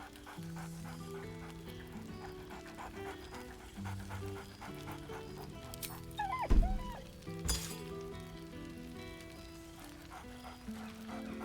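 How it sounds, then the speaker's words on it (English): A dog in the video game Baldur's Gate 3 gives a few quick, cheerful barks and pants over soft game music, with one sharp bark standing out near the middle. "barks merrily in something like agreement"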